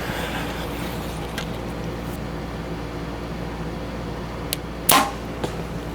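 An arrow from a PSE Mach 30 compound bow strikes a target at 40 yards, heard as one sharp, close thwack over steady outdoor background noise near the end.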